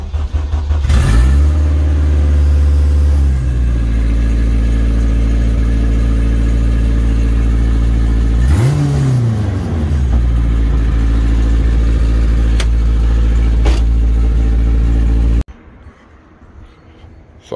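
A turbocharged K24 engine in an all-wheel-drive Honda Odyssey cranks and fires up loudly nearby, settles into a rumbling idle, then revs up and back down before the sound cuts off abruptly.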